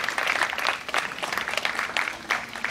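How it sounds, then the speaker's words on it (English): Crowd at a World Hepatitis Day event applauding, a steady patter of clapping with a brief burst of voices. "please give yourselves a round of applause just for all your support"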